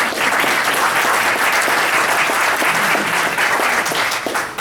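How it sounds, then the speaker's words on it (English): An audience at a Suncoast Waterkeeper gathering applauds for Cheryl Berlin, with dense, steady clapping that runs loud and unbroken from start to finish. "Cheryl Berlin, please stand and take some applause."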